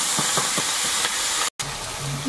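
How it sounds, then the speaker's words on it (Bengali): Nigella seeds, green chili and ground spice paste fry in hot oil, giving a steady close sizzle and hiss with a few soft stirring scrapes and a brief cut near the end, no voices. "একটু কালো জিরে দেবো আর কাঁচা লঙ্কা তেলের মধ্যে, আর এই মশলা বাটাটা দেবো"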